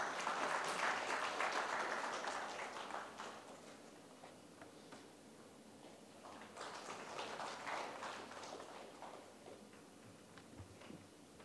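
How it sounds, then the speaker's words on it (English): An audience applauds panelists at a data center panel discussion, steady clapping from a crowd that swells, thins out, then rises again before fading. "Please give them a big round of applause."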